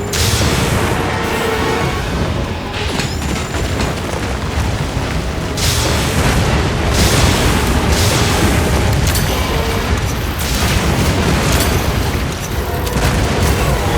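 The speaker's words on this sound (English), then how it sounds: "The compact anti-wyvern gun can reach it! Using the anti-wyvern gun!" The compact anti-wyvern gun fires repeatedly during a fight with Gogmazios in Monster Hunter Wilds, loud booming blasts recurring every second or two over a dense, roaring battle din that never lets up.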